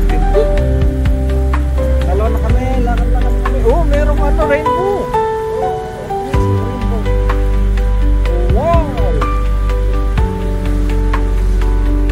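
Niagara Falls roars as a loud, steady broadband rush of falling water, heard close with constant spray noise. People talk over it throughout.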